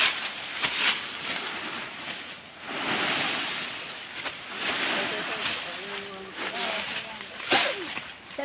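River water rushes and splashes in a continuous wash, with rustling and brief voices partly heard over the flowing sound.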